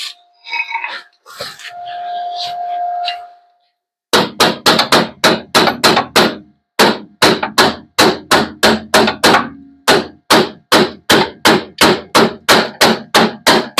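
Loud, rapid series of metal hammer blows shaping a body panel on a Triumph TR7, steady bursts of strikes in quick rhythm after a brief stretch of rustling and a low hum.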